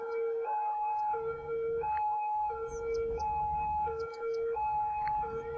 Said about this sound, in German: Und der Krankenwagen, der nervt ein bisschen, ne?